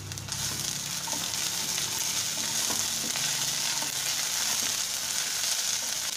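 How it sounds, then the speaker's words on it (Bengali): Onions fry in a pan with ginger paste for fish kachori, giving a constant bright sizzle with occasional stirring scrapes and small crackles, close and steady throughout. "আমার পেঁয়াজটা ভাজা ভাজা হয়ে গেছে"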